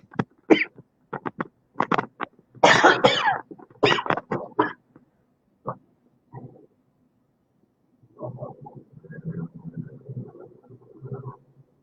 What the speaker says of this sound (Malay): maaf batuk pula, excuse me